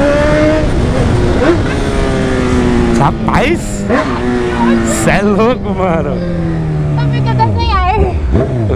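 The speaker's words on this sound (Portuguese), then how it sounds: "Tá muito top o roncão da CB1000, galera" A Honda CB1000 motorcycle engine roars and revs with rising and falling pitch while riding, loud and close, with excited voices talking over it.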